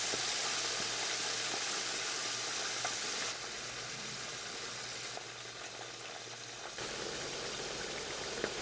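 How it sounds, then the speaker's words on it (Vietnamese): Mackerel scad fries in hot oil over medium heat, giving a loud, continuous crackling sizzle that holds steady throughout with no talking. "Đợi cho dầu nóng thì mình cho cá vào chiên."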